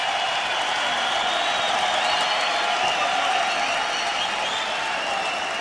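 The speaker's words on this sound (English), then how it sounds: "The crowd's on its feet." Arena crowd in Las Vegas roaring steadily after a mixed martial arts fight, a dense continuous wash of cheering and applause at constant loudness throughout.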